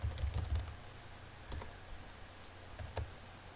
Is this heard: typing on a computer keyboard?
yes